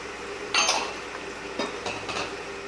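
Onions and green chillies frying in oil are tossed in a metal pan, giving a few sharp clanks and scrapes of utensil on metal over a soft background sizzle.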